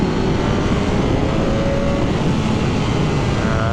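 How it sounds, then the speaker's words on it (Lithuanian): A BMW K1300S motorcycle engine roars in a loud, steady drone mixed with rushing wind noise, holding an even level throughout. "tas variklio garsas taip gražiai riaumoja"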